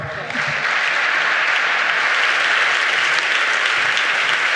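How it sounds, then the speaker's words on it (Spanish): Loud, dense audience applause at a round-table session of a science entertainment conference, sustained clapping from a full room that begins abruptly and holds steady throughout. "Un fuerte aplauso, por favor."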